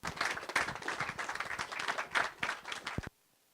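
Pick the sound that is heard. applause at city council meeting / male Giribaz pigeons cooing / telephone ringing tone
applause at city council meeting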